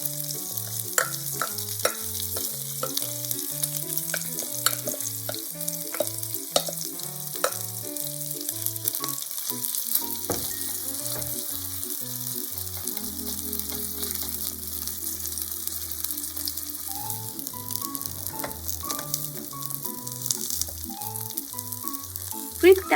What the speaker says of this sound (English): Fry the pork. Add the okonomiyaki dough to the pan.